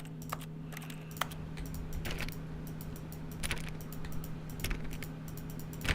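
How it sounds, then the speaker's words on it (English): Mouse and keyboard clicks during a first-person PC game, The Stanley Parable, sound as sharp, irregular taps scattered across several seconds over a steady low electrical hum. "I know you guys can hear me clicking."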